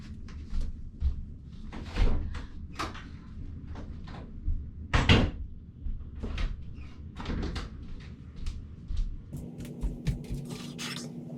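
Several knocks, thuds and rattles from a home freezer door being opened, rummaged in and shut, fairly close, with a soft hum settling in at the end.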